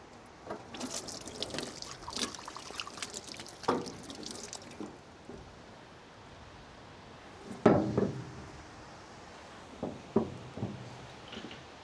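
Water dripping and splashing from a leaking garden hose thread fitting on farm irrigation, with scattered drips and a few louder splashes against steady faint trickling, close by.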